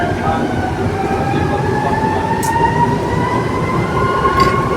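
A Manila MRT metro train runs steadily with a constant rumbling drone and rising electric motor whine, close and enveloping throughout.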